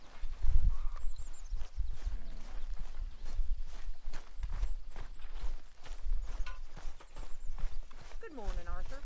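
Horse hooves clip-clop at a walking pace in the video game Red Dead Redemption 2. The steady, fairly soft footfalls sound close, mixed with other game sounds and a snort or whinny near the end.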